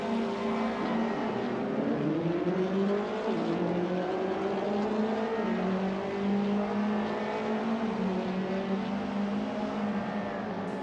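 Racing cars on the Puebla race track, their engines droning steadily and rising and falling in pitch as the pack runs together, a continuous, fairly distant roar with no voices.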